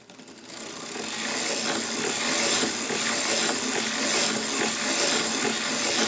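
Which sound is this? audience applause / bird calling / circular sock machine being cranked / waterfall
circular sock machine being cranked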